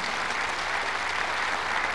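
Dense, steady applause from an audience at an outdoor government event in Cochabamba, loud and continuous with no voices over it.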